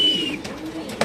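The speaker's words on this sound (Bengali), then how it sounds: "দেখেন ভাই কবুতরের ডাক দেখেন ভাই" Racer pigeons at a loft give a short, low coo, close and steady under a brief high whistle and a couple of faint clicks.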